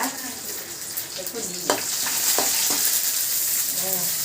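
Green chillies sauté in a hot pan with a steady sizzle and spatter, broken by a few sharp scrapes and clicks of stirring, close and fairly loud, with no talking.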